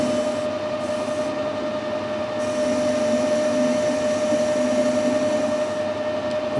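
A metal lathe turns a taper with the compound slide set across, giving a steady mechanical hum with a constant whine and a grinding rasp underneath, moderately loud and unbroken.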